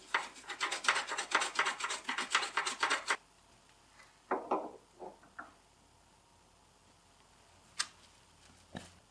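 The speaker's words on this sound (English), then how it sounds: "clean off the dirt with this little plastic brush here" A small plastic brush scrubbing dirt off a Jeep Wrangler TJ body mount: rapid, rhythmic rasping strokes for about three seconds, then a few scattered scrapes and knocks, close by.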